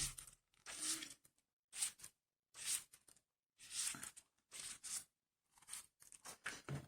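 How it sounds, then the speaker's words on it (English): Oracle cards flicked quickly through by hand, a series of short papery riffling and rustling bursts separated by brief silences, close and fairly soft. "I'm just flicking through this quite quickly because we'll go through the actual cards in a moment"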